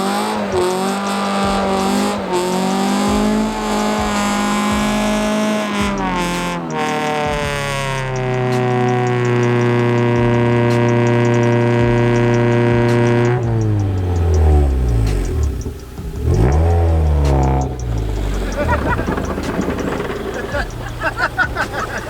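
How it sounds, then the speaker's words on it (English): A six-inch lifted wagon does a burnout off-road, its engine revving hard and climbing in pitch again and again with loud sustained roaring, tires spinning as the viscous fluid overheats, with voices faintly in the background. "me sitting there doing that little burnout and cooking the viscous"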